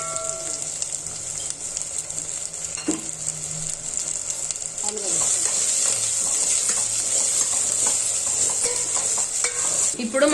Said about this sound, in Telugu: దీన్ని కొంచెం ఫ్రై కానివ్వాలండి అలా ఆయిల్ అనేది పైకి వస్తూ ఉన్నప్పుడు అది కొంచెం ఫ్రై అవుతున్నట్టు